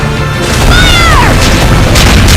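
Ship cannon fire in Ys X: Nordics, a heavy continuous booming roar over a dense battle din, with a whistling sweep through the middle.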